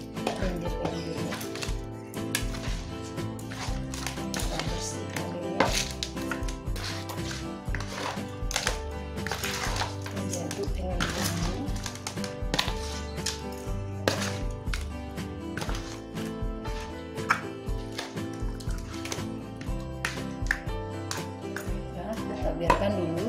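Catfish being cleaned and cut with a knife, rendered with salt and vinegar, giving steady irregular chopping and scraping knocks with clattering pans throughout at close range.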